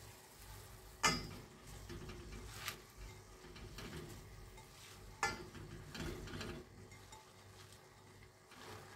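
Spinach is dropped into a pan with thinned tomato paste and stirred, a quiet low sizzle with a few soft clattering stirs and spoon taps against the pan.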